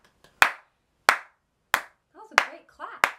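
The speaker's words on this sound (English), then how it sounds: "Round of applause for Bray." Five slow, sharp hand claps from one or two people close to the microphone, spaced about two-thirds of a second apart, with a voice speaking briefly between the later claps.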